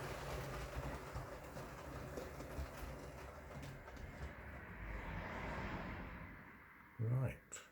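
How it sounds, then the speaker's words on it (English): A Wrenn model locomotive runs with a very quiet motor, giving a soft steady whir and faint rolling hum on the track, with a brief louder clunk near the end. "Very quiet motor."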